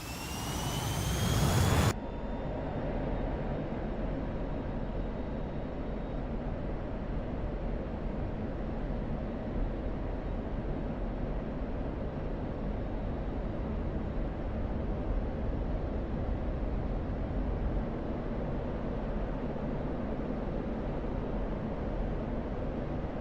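An aircraft engine spools up in the DCS flight simulator, a brief sharp onset giving way to a steady, loud roar that holds unchanged for the rest of the stretch.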